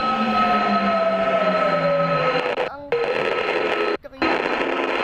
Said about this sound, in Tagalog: ayan po ang tren